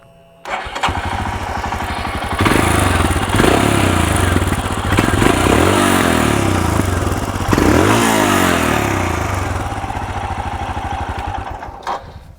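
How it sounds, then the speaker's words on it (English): A Royal Enfield Himalayan motorcycle engine fires up and idles with a deep, thumping exhaust, then revs up a few times before settling and cutting off near the end. "Let's hear the exhaust note of the Himalayan."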